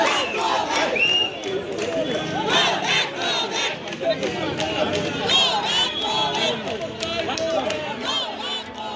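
An angry crowd surrounds a politician during an election campaign in Beleghata, shouting "go back" slogans. Many voices yell and chant together, loud and close, in a continuous mass of shouting and babble.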